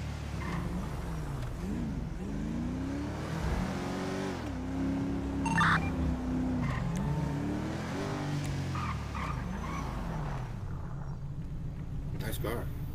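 Video game cars driving through city streets in a roleplay session, engines revving and rising and falling in pitch with brief tire noise, mixed under ongoing talk.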